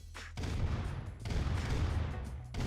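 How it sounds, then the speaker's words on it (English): Gunfire rattles around a heavy tank in the real-time strategy game Command & Conquer: Red Alert, with dense continuous bursts and booms that pause briefly and then resume, loud and close throughout. "Heavy tank there, getting shot at"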